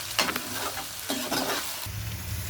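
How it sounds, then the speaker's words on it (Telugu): Onions fry in oil, giving a dense, close sizzle with bursts of stirring and scraping in a pan and no voices. "ఉల్లిపాయలు ఎక్కువ వేసుకోవాలి, బాగా వేగనియండి నూనెలో"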